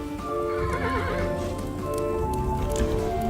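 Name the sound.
horse neighing in video game Kingdom New Lands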